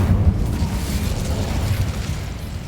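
The Incendio fire spell bursts in Hogwarts Legacy, a loud, dense roaring blast that opens sharply and churns on as a sustained low rumble across the whole stretch.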